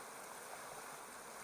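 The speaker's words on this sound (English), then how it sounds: "the waterfalls no better than most little burns running into the Tyne" Steady, even rushing of a small waterfall on a burn near Healey Mill, a broadband wash of falling water with no pauses and no voices.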